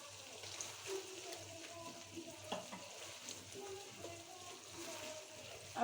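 Minced meat frying in a pan with a tablespoon of ginger garlic paste for a qeema lobia curry, a faint steady sizzle with occasional stirring scrapes, no voice over it.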